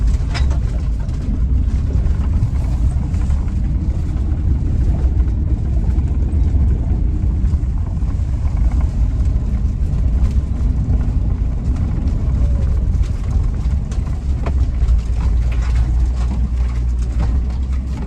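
A van driving along a dirt trail on State Route 107, giving a loud, steady low engine rumble and road noise throughout with faint chirps over it.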